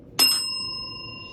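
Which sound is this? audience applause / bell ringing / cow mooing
bell ringing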